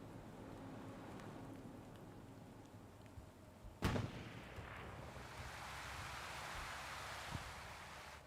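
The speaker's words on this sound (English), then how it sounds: "Okay, so the gun has gone off." A single loud gunshot or artillery report in the World War II shooter Hell Let Loose on the Purple Heart Lane map, one sharp blast midway through, followed by a soft wind-like rush and a faint later thump.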